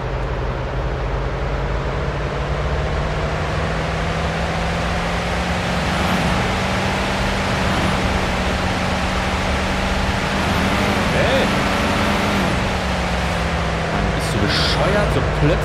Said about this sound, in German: Das Auto ist viel zu laut da vorne.